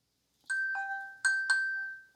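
A bright electronic ringtone melody from a Samsung Galaxy phone plays alone, a few clear chiming tones repeating in a short phrase, close and moderately loud.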